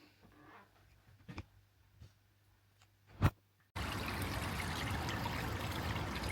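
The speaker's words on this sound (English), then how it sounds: "There is an actual river running down this street." After a few quiet taps, rainwater suddenly rushes like a river down a street, a loud, steady broadband torrent that continues unbroken to the end.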